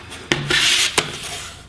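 A Lenovo Y50-70 laptop with a broken hinge is pried open: a sharp plastic snap, then a scraping rub of the case parting, and another short crack near the end, close and loud.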